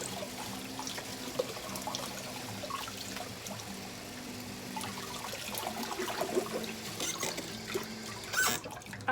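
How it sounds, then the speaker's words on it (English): Tap water runs steadily into a sink while vinyl reborn doll kit parts are rinsed under it, a soft continuous trickle and splash with occasional handling clinks, fairly quiet and without talk. "I'm going to run some more water and just rinse them under here in fresh water"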